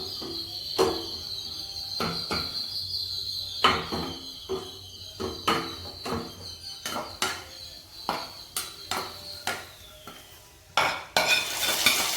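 A spoon stirs a sizzling tempering, with raisins mentioned among its ingredients, into sweet akkara vadisal in a pot. Up close there are repeated scraping knocks in an uneven rhythm over a steady background hiss, and no one speaks.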